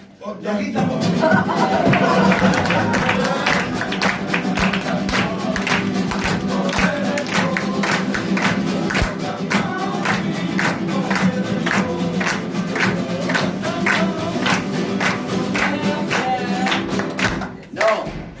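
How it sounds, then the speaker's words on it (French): An audience at a French stage show applauds at length, steady dense clapping with individual hand claps standing out, sustained for many seconds before stopping abruptly. "J'aimerais, mesdames, messieurs, que vous puissiez applaudir."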